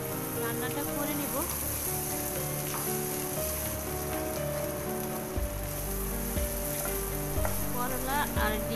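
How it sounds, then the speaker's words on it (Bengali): Bitter gourd and hilsa fish roe fry in a pan under constant stirring, a steady close sizzle with repeated scraping strokes and a faint background hum. "অনবরত নেড়ে নেড়ে আমি রান্নাটা করে নিব।"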